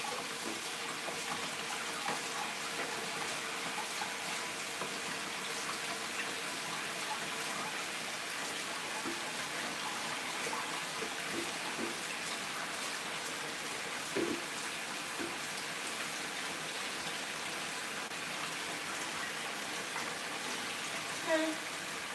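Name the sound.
water running while washing rice for jollof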